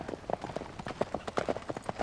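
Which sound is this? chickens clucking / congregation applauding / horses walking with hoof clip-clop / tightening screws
horses walking with hoof clip-clop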